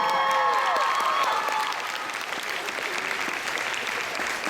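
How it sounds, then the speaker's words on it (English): An audience at a Phoenix Comicon convention panel applauds, producing loud, dense, continuous clapping from a large crowd. A few light cheers and whistles rise early, and no clear speech is heard. "Give them a round of applause."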